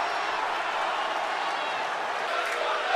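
Wrestling arena crowd in a WWE video game, a steady roar of cheering and clapping from a large audience, constant and fairly loud, with a commentator's voice over it.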